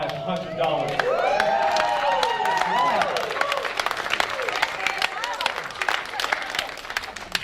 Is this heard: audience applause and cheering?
yes